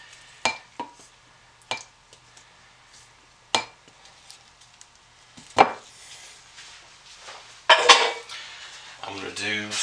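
A spatula scrapes thick soap batter off a container: sharp, separate knocks and scrapes spaced a second or two apart, then a longer rough scrape near the end in a quiet room.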